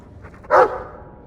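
A Mabari war dog in Dragon Age II gives a single short, breathy huff or bark, close and fairly loud, over a low, quiet background.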